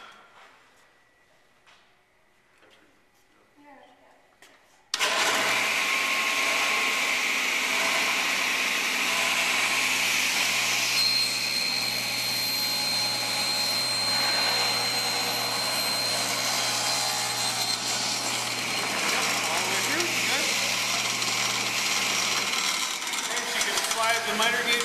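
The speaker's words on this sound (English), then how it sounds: "She's going to go ahead and turn the saw on, kind of stay to the left there, and go ahead and make a cut." A table saw spins up abruptly and runs steadily for about twenty seconds with a loud whining drone while a piece of wood is cut in a school technology shop; before startup there is only quiet room noise.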